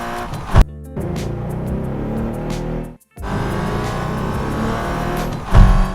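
Car engine sound effects layered into an edit, a steady loud engine drone with revving and a brief cut to silence midway, no voices.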